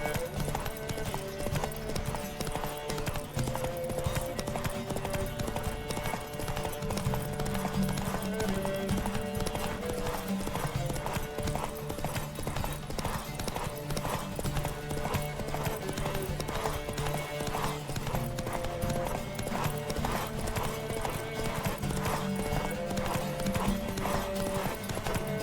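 Rapid, steady clip-clop of galloping horse hooves from The Witcher 3: Wild Hunt runs the whole time, layered with a droning musical score and rushing background noise.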